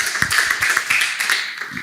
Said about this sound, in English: Do you want another round of applause, or it's okay?